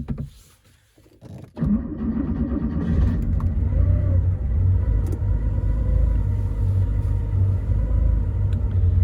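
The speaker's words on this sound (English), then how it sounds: "So if we start the engine in the car, we'll see this status change" A classic car's engine turns over and catches after a quiet opening second, then settles into a loud, steady low idle rumble that runs unbroken to the end.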